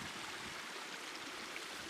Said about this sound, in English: the sound of running water naturally in a stream and a little mini waterfall